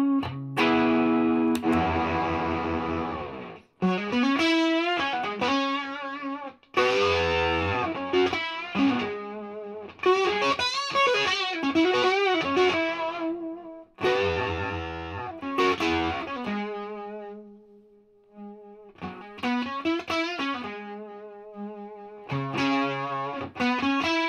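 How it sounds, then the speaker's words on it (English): Distorted electric guitar, an Xotic XS-4, through a Blakemore Octidrive overdrive octave fuzz and a VOX AC-15 amp, playing loud chords and riffs with thick, fizzy octave-up fuzz in bursts with short pauses. "Got to hear what it sounds like with this other button for the octave sound."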